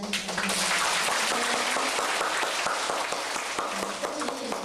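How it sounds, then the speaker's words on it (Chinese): Warm, sustained audience applause for a visiting lecturer at a volunteer gathering, dense clapping holding steady throughout with a faint voice briefly underneath. "我们热烈掌声"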